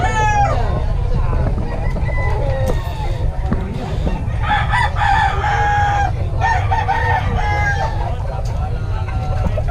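Palawan Gold gamefowl roosters crowing at a crowded festival expo, several loud crows and clucks rising over a dense murmur of people talking nearby.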